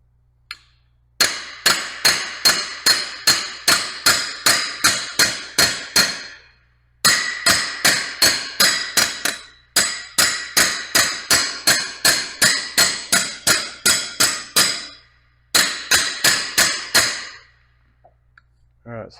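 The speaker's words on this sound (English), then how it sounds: "we're going to hammer in the center area" Sharp metallic hammer blows land on the center of a warped knife blade, struck with an autobody hammer in rapid, evenly spaced runs of about a dozen hits each, separated by short pauses, loud and close.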